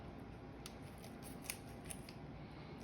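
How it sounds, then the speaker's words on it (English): Kitchen scissors snip through raw chicken during spatchcocking, giving several quick crisp cuts in an uneven rhythm, soft and close against a low steady background hum. "These are good scissors, by the way."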